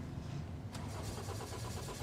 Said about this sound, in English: Sounds as if the engine has started again.